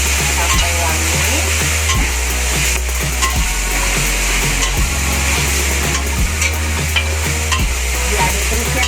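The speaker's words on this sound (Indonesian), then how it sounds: "Diaduk terus ya teman-teman supaya bumbunya tidak gosong." Spice paste for Karo-style chicken gulai is stirred as it fries in a pan, with a steady loud sizzle, repeated scrapes of the utensil against the pan and a low hum underneath.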